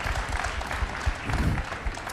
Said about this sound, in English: Yeah, definitely worth some claps.